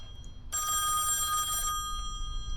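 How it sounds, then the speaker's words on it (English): An old telephone bell rings inside a mansion in the horror game Song of Horror, one sustained metallic trill of about a second, clear and fairly loud over a low background rumble, with no talking. "How can the phone be ringing?"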